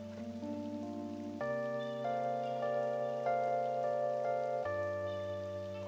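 A blender motor drones with a strained, humming whine, its pitch dropping and shifting as it labors through thick fruit.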